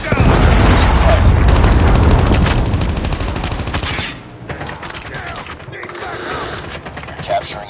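Dense, loud automatic gunfire and explosions from a Call of Duty Mobile match, sustained rapid bursts at first, then thinning into scattered shots and in-game sounds.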